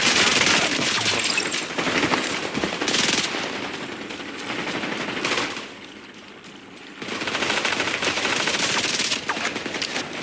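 Video game gunfire comes in loud, rapid machine-gun bursts that rattle for several seconds, pause briefly, then resume in another sustained volley.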